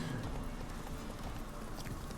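Hooves of Roach, the horse in The Witcher 3, clip-clop in a steady trotting rhythm over a dense outdoor game soundscape, moderately loud and continuous with no voices.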